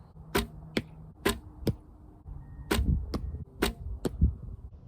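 Arrows thudding into an archery target in a series of sharp, distinct impacts at irregular intervals, fairly close and clear with no talk.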